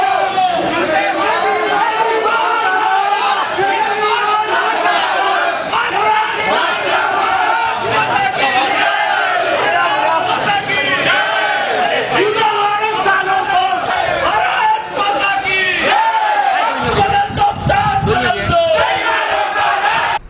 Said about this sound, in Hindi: इस दौरान आप पार्टी कार्यकर्ता नारे लगा रहे थे।